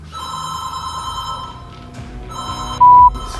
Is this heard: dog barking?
no